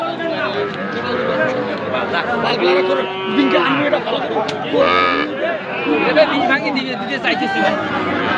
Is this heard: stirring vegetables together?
no